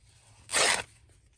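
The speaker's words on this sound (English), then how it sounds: "and we cut it right here." One short, loud rasping cut through a cloth napkin stands alone against a quiet background.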